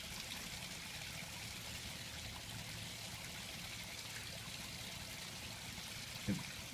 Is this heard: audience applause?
no